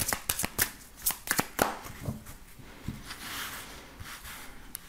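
Tarot cards being shuffled by hand, a run of crisp riffling flicks and slaps close up at the start that give way to softer rustling and sliding of the deck.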